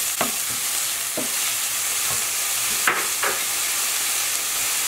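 Ground beef and zucchini fry in a pan with a constant loud sizzle, broken by several sharp scrapes of stirring spaced about a second apart.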